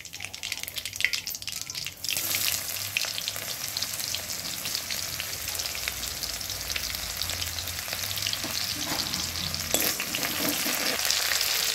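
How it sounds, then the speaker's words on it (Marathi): Chopped onion frying in a pan as the base for medu vada and sambar: a loud, steady sizzle that starts sharply after a quiet moment and continues with stirring scrapes, no talk. "आता त्याच्यामध्ये थोडासा कांदा टाकून घेऊ।"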